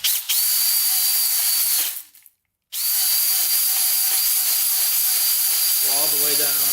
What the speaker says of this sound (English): So let's get to honing here.